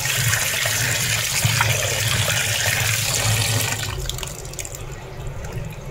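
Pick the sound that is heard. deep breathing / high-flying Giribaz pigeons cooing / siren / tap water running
tap water running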